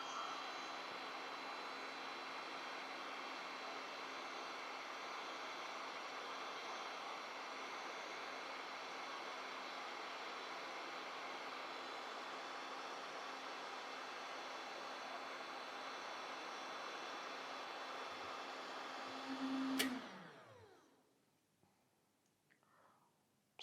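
A Parkside PPHLGA 20-Li A1 cordless hot air gun set to 500 degrees runs with a steady, loud airflow roar and a fixed fan whine for about twenty seconds, then cuts off abruptly and spins down into near silence.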